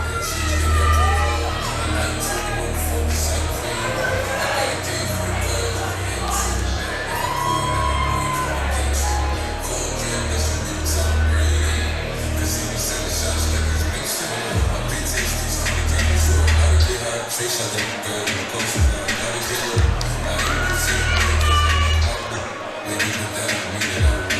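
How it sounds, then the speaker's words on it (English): A large crowd at a Southport Sharks MMA fight night roars and cheers continuously, with whoops and shouts rising and falling over a booming arena sound system and an announcer's voice. "Very warm reception from the crowd here at Southport Sharks"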